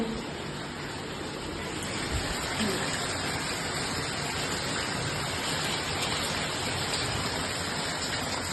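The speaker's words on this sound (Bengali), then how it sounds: "বাইরে এত বৃষ্টি পড়ছে" Dense, steady rush of heavy rain falling outside, a constant broadband hiss without breaks.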